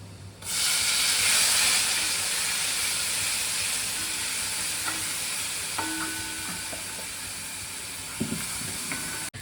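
Green masala paste frying in a pan, a loud steady sizzle bursting in at the start and hissing continuously, with a few faint clinks of a stirring spoon near the end.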